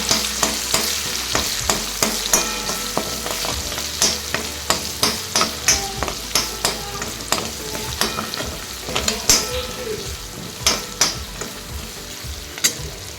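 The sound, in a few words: onion and tomato frying for chicken gravy tempering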